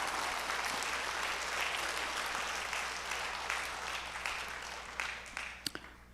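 A church congregation claps at a Korean autumn revival service, the sustained applause filling the hall steadily for about five seconds, then thinning out into a few scattered final claps.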